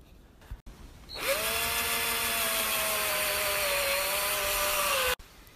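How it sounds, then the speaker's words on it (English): A power drill whirs up and runs steadily for about four seconds, grinding into wood to make rope holes for a slingshot, then stops abruptly; no voices. "It's time to drill the holes for"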